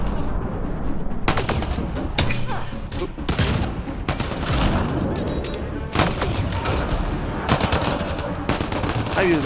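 Sustained gunfire from the sci-fi shooter Mass Effect Andromeda: dense rapid bursts and single cracks repeat throughout, close and loud over a constant layer of combat noise.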